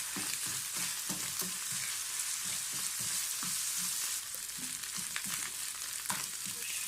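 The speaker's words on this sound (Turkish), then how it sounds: "Kıymamız da böyle kavruldu soğanla" Minced meat and onions fry in a pan with a loud continuous sizzle and hiss, while the spoon scrapes and stirs in rhythm beneath it, close and steady throughout.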